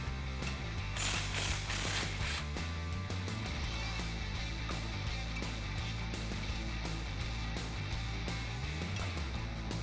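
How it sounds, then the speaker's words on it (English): A ratchet spins out the bolt on a brake line bracket of a Jeep Wrangler JL 2-door, a continuous loud rapid clicking that runs the full ten seconds up close. "Next, we'll remove the bolt out of the brake line bracket."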